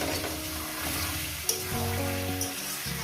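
Chicken pieces frying hard over high gas for a Punjabi-style chicken curry, a steady close sizzle with occasional stirring clatter and scrapes in the pan.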